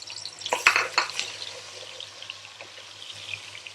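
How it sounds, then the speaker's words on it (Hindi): Two medium onions, finely chopped, fry in cooking oil in a pan for Sindhi biryani, giving a steady sizzle with a brief clatter of stirring early on. "2 दरमियाने साइज़ की प्याज जिसे हमने बारीक कट कर लिया है, इसे हम गोल्डन फ्राई होने तक फ्राई करेंगे।"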